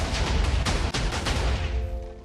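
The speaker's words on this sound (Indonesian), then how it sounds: "Kumpulan TNT itu anehnya tiba-tiba meledak dengan sendirinya." TNT blowing up in the Minecraft video game in a plains biome, a loud sustained rumble of overlapping blasts with a few sharper cracks that slowly fades out at the end.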